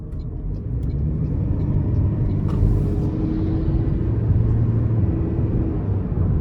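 A 2023 Toyota Prius XLE hybrid accelerates out of a corner in normal drive mode, giving a steady, moderately loud engine and road rumble heard from inside the cabin with no talking.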